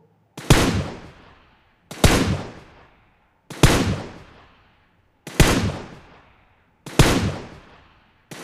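Five loud, evenly spaced PUBG video game gunshots through boAt Rockerz 510 headphones, each a sharp blast with a decaying tail, separated by brief silence.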